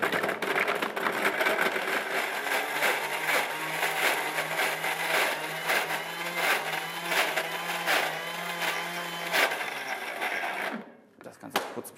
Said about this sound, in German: Das Ganze kurz pürieren.